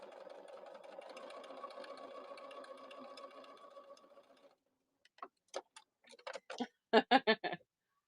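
A sewing machine stitches scrap-fabric pin cushions, whirring steadily up close for several seconds before slowing and stopping. A series of sharp clicks and clacks from handling the machine follows, with no talking.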